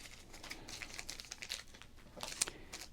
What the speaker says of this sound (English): Some great crinkling.